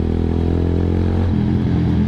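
A Kawasaki Z200 motorcycle fitted with a loud slip-on muffler exhaust rumbles steadily up close, its deep, raspy drone shifting slightly in pitch partway through.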